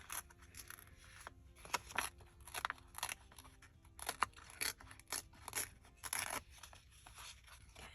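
Sheet paper for a gift pocket being ripped and handled: a string of short, sharp tearing and crinkling bursts at an irregular pace, close up and fairly quiet, with no one speaking.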